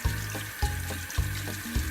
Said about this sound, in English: Clean the area really good with soap and water.